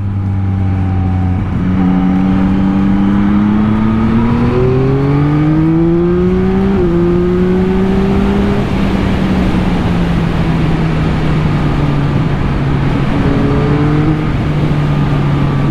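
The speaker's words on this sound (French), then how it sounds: "je tords l'accélérateur et la moto elle démarre d'un coup" A 2021 Yamaha MT-09 SP motorcycle accelerating in throttle mode 1, its engine note climbing steadily in pitch through a long, loud pull, dipping briefly partway through before rising again, with no talking.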